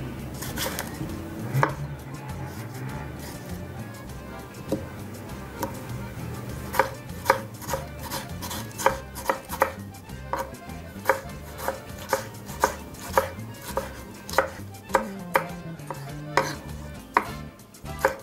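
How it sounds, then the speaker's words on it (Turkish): Rapid, regular knife chops through tomatoes against a cutting board, close and crisp, continuing steadily over quiet background music without talking. "Domateslerimi küçük doğrayacağım."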